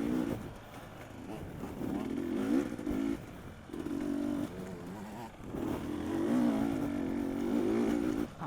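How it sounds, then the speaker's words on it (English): A 125 two-stroke dirt bike revs nearby during a hare scramble race at Powell Ranch, its buzzing engine note surging and dropping in repeated bursts over rough outdoor noise. "I can hear it's like a 125 two-stroke"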